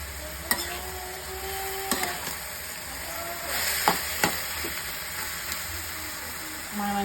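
Bottle gourd (lau) greens frying in a pan over a village kitchen fire, a close steady sizzle and hiss with a few sharp clicks of stirring and utensil taps.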